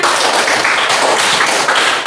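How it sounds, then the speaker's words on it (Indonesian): Close, loud clapping from a classroom of students, dense and continuous for about two seconds with no pauses. "Mari kita tepuk tangan"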